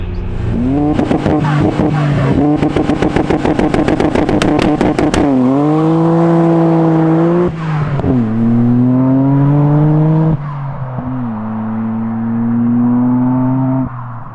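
A 500HP Nissan R32 GTR engine revs hard during a launch, with rapid staccato pops and limiter bursts giving way to sustained loud revving that rises and falls across several long pulls, close and dominant throughout.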